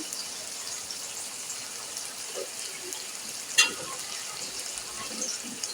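Ginger garlic paste frying in a pan for vegetable rice gives a low, steady sizzle throughout, with a single brief clink partway through.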